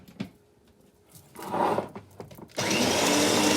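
A small electric chopper whirs in short bursts, then runs steadily and loudly, with a few clicks and knocks before it starts.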